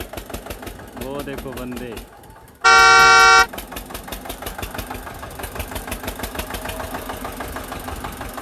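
A tractor engine chugs in fast, regular pulses, interrupted by a loud, sustained horn blast, while someone speaks briefly.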